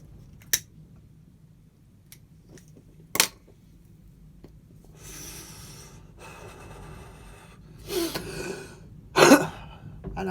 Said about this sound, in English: And I have a good cough.